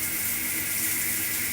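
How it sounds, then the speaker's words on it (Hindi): A hot water tap in an apartment gushes at high pressure, making a loud, steady rushing hiss throughout. "एक बार इसको चालू करो तो पानी का प्रेशर देखो"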